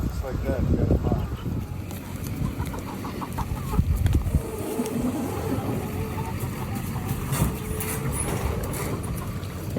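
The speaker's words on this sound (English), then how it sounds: "The chickens are eating her food." Farm chickens cluck and squawk repeatedly close by while eating, with occasional rooster-like calls, mixed with background rumble and shuffling.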